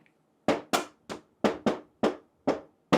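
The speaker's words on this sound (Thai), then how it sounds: "ลองเคาะฟังเสียงไว้กับผมแล้วกันนะ" Knocks on the casing of a new Daikin FTKQ-Y Series home air conditioner: eight sharp, hollow raps at an uneven pace, close and fairly loud, with no talk.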